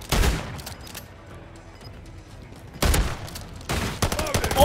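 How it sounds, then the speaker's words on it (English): Shotgun blasts in a video game, heavy booming shots at the start and again near the end, a tight cluster of loud bursts separated by a quieter stretch of game noise. "That was three shotgun shots he tanked!"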